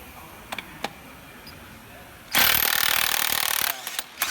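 An Ingersoll Rand W5152 20V cordless impact wrench with a power socket hammers loose a Honda crank bolt, a loud rattling burst of about a second and a half after a few faint clicks, then stops abruptly.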